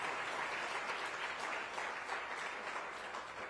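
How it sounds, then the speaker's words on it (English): Steady, dense clapping from a banquet audience at an economic club luncheon, sustained and fairly even throughout without any voices rising above it. "Please join me in a round of applause to thank the students and sponsors."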